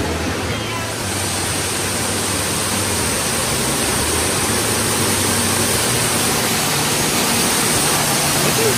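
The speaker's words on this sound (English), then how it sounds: "I like this waterfall better than Ruby Falls." A waterfall inside a cave gives a continuous, loud, even rush of falling water that echoes and holds steady throughout.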